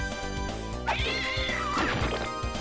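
Cat meows from the video game Castlevania: Dawn of Sorrow, a drawn-out rising and falling meow over game music and effects, loud and close.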